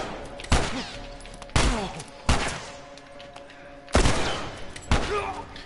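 Video game gunfire: five sharp, loud shots spaced irregularly over a few seconds, each with a short ringing tail, over a low steady background hum.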